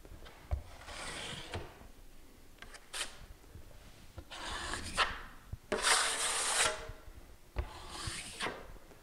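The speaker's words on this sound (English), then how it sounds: "I'm going to run one up the middle, right about where the tape is, like that" Steel trowel dragging drywall mud along a taped butt joint, a series of scraping, rasping strokes in bursts with short pauses between, close and fairly loud with no talking.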